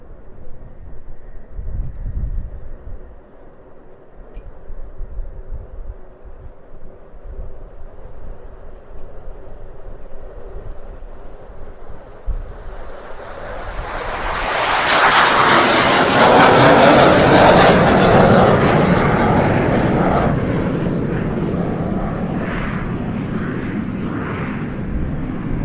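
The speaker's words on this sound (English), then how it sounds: "Sound of those 2 EJ200 engines, which we are hearing not for the last time today" Eurofighter Typhoon jet with two EJ200 engines departing at an airshow, a distant engine hum swelling into a loud roaring rush that peaks and then slowly rumbles away.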